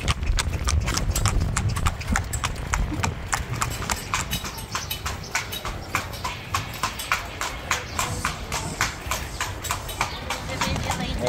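A horse's hooves clip-clop at a steady, even pace as it pulls a ride carriage toward the river in Luxor, Egypt. The hoofbeats are close and continuous, with faint voices in the background.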